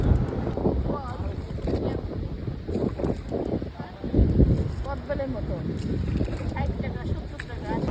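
A small boat rides the sea off Guliakhali in the monsoon, with wind buffeting the microphone and water rushing and splashing close by while people talk throughout.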